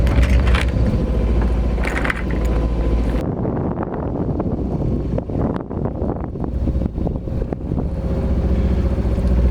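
A sailing boat motors through fog near Kermadec under engine power, its steady low engine drone blending with heavy wind buffeting the microphone and wash from the water, loud and continuous throughout.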